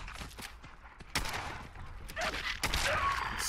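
Gunfire in the video game Fallout 4: repeated sharp bursts of shots and a fusillade, loud and close, with brief spoken remarks in between.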